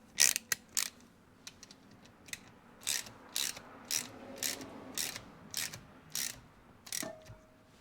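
A hand ratchet clicks in quick bursts while tightening a bolt on the aluminum lower end of a Yamaha 175 Enduro engine during a rebuild, with about a dozen short, crisp, close-up bursts separated by brief pauses.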